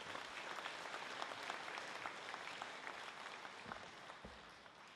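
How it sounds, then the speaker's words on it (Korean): Church congregation at a national elders' gathering applauds to welcome a pastor to the stage, a quiet, distant, sustained wash of clapping heard alone. "나오실 때 모두가 다 큰 박수로 환영해 주시길 부탁드립니다."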